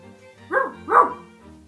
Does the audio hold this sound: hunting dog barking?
yes